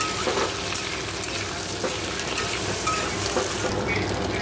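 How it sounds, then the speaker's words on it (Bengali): Black cumin seeds and dried chilies tempering in hot oil in a kadai, giving a steady, dense close sizzle and crackle with faint stirring throughout, no voices. "কড়াইতে তেল আমি কালো জিরে শুকনো লঙ্কা ফোড়ন দেবো"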